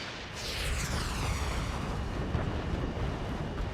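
A missile roars off and explodes in the Ace Combat 7 jet combat game, giving a sustained loud rushing, rumbling blast that fills the whole moment with a sweeping whoosh at the start.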